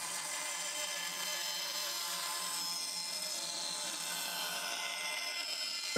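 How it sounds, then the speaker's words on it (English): Bandsaw cutting through 9mm plywood, a continuous bright rasping whine held steadily for several seconds, close and alone with no voices. "then cut out the shape at the bandsaw"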